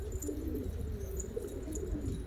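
Pigeons cooing at a bird market or auction, soft low repeated coos over a steady murmur of background noise, with a few faint chirps higher up.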